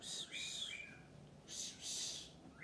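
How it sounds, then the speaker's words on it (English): Pet birds whistling indoors: a few short, bright descending whistles followed by two longer high whistled notes, fairly close against a quiet room background. "My birds are whistling."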